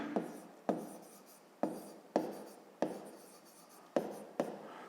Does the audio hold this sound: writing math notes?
yes